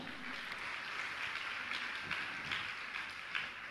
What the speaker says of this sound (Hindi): ताली बजाइए आप जोरदार